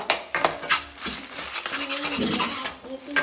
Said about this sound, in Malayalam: നമ്മൾ ഇഞ്ചിയും പച്ചമുളകും ചതച്ചത് നന്നായിട്ട് ഇളക്കി കൊടുക്കുക